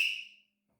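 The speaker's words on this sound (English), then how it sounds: "I have always whistled with my fingers." A single loud, sharp finger whistle, shrill and close, that cuts off abruptly and then fades into silence.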